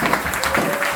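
A church congregation applauding, a steady dense wash of clapping lasting about a second, loud and close.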